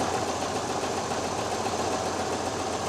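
A 1976 Chevrolet C10 engine idles steadily after a cold start following a coolant flush, a close, continuous mechanical hum with a faint rhythmic ticking running evenly throughout.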